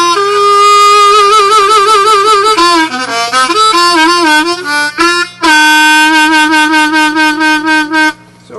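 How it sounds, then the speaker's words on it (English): A harmonica played right out of the box, sustained reedy chords and bending single notes sliding up and down, loud and close with no talk over it. "I opened up the harmonica and started to play it right out of the box"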